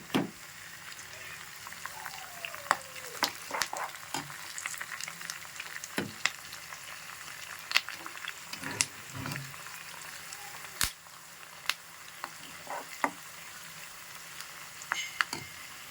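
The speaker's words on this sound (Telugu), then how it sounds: "తాలింపు బాగా వేయాలి." Mustard seeds, cumin, garlic, curry leaves and dried red chillies sizzling in hot oil as tempering for a summer pickle, continuous frying crackle with sharp pops and spatters, a stirring sweep, and brief talk in the background.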